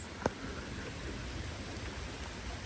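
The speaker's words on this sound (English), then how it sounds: "I'm filming in the rain." Steady light rain falls on a garden patio, a soft even hiss held at low level throughout with one brief sharp tap near the start.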